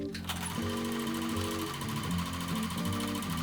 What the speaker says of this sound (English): Sew around the mask, leaving the opening between the top notches.